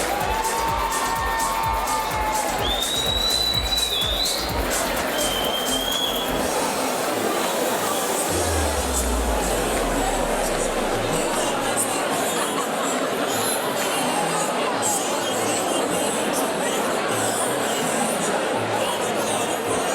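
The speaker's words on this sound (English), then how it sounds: "Let's have a massive round of applause for Joe, please" A crowd at an amateur boxing bout claps and cheers after a fight, with a few whistles and shouts over a busy hall murmur that carries on steadily.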